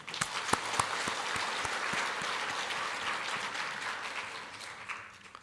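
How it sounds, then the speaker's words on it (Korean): A church congregation claps together in broad, steady applause during a sermon, a few sharper individual claps standing out early, with little talking. "우리 박수 한번 합시다."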